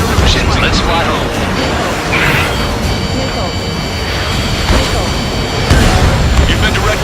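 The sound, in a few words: missile hitting the player's jet in video game Ace Combat 7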